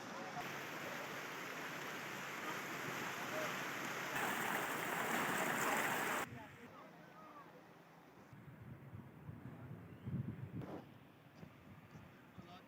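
Steady rushing water from the Tatta Pani spring beside the Poonch River in Kashmir, loud for several seconds, then dropping to a quieter, uneven trickle and gurgle.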